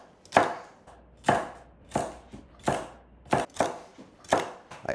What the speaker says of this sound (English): I'm supposed to just roughly chop the celery